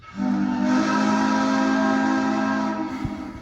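A steam train whistle on an express train blows one long, loud, sustained blast with a steady harmonic tone, then cuts off, leaving faint rumble behind.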